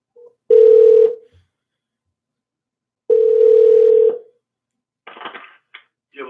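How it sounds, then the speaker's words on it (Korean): A telephone dial tone sounds in two long, loud steady beeps separated by silence while a call is placed, followed by short, busier bursts of line sound. "전화 다시 지금 드려보겠습니다."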